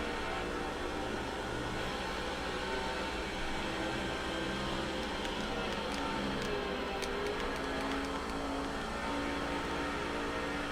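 A pack of NASCAR Busch Series stock cars in the racing game NASCAR 06 accelerating three wide out of turn four at Mr. Clean Speedway, a dense continuous engine roar and whine held loud and steady throughout.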